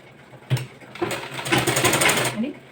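A sewing machine stitches a folded blouse strip in short bursts, with a clack and then a quick run of rhythmic stitching. Someone speaks over the machine.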